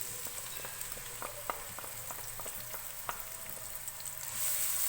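Chopped onions fry in half a cup of hot oil in a pan, giving a steady close sizzle with scattered crackles and pops and a soft brief scrape of stirring, getting slightly louder at the very end.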